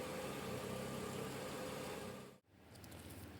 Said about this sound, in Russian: Машина работает на холостых, полностью прогрета.